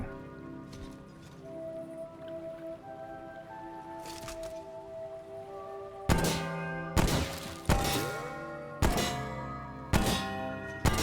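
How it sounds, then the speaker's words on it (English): Bells clang in the video game Remnant: From the Ashes: after a quiet stretch of ringing tones and music, about six loud metallic strikes land one after another, each decaying with a ringing tail. "Shoot your stupid bells."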